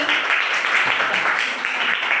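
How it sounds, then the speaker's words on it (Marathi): A classroom of students claps for a classmate: brief, dense, fairly loud applause throughout. "टाळ्या द्यायच्या तिच्यासाठी सर्वांनी."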